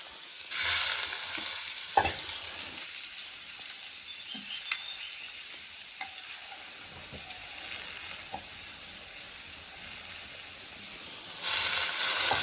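Drumstick pods fry and hiss in a pan while being stirred, with scattered scrapes and clicks of the spoon over a soft, continuous sizzle that swells louder at the start and end.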